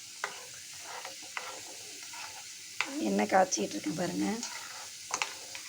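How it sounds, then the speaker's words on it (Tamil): Oil heating in a pan breaks into a dense, crackling sizzle with stirring clatter for a couple of seconds midway, framed by quieter kitchen sounds and brief speech before and after. "பாருங்கள், நான் எண்ணெய் காய்ச்சிக்கிட்டு இருக்கேன்."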